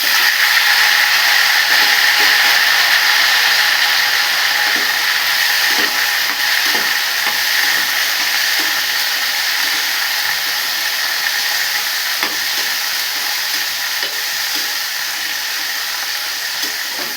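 Garlic and tomato sauté in a pan with a continuous, loud, even hiss that holds steady for the whole stretch, broken only by small faint clicks and pops.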